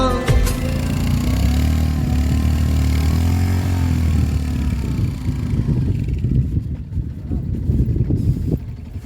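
A motorcycle stuck on a rough road, its engine droning steadily and strongly for several seconds, then fading into rougher, noisier sputters and scraping as the rider struggles to free it.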